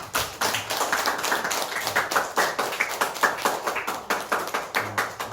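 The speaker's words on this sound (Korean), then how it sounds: "우리 권사님 오랜만에 오셨는데 우리 환영의 박수 하겠습니다" A church congregation at Suchon Church's Sunday service claps in welcome for a returning deaconess, a steady run of many hands patting in overlapping, rhythmic bursts, moderately loud and filling the room, with no talk over it.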